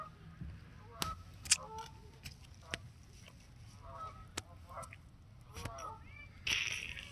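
Several geese honk by a lake in scattered, fairly distant calls, with a few louder honks standing out and a low background rumble throughout.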